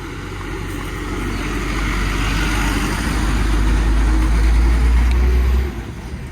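A bus on a roadside draws near with a deep engine rumble that swells over several seconds, then drops away as it passes, with no talk over it.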